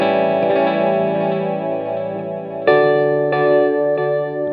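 Electric guitar played through a Free The Tone Future Factory modulation delay pedal, sustained chords swirling with chorus-like modulation and trailing repeats, with a few fresh strums near the end ringing out.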